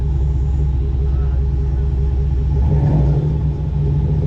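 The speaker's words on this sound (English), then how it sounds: "I gotta get one more exhaust clip for the exhaust addicts." A 2008 Pontiac GXP exhaust burbles and rumbles at close range, a deep steady idle that swells briefly into a throatier rev.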